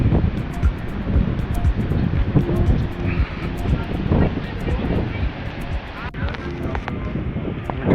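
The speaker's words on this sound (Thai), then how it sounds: "โอ้ ลมแรง ลมแรง ลมแรง" Strong wind on Zandvoort beach in the Netherlands around six in the evening, a loud steady roar buffeting the microphone with the sea rolling underneath, continuous throughout.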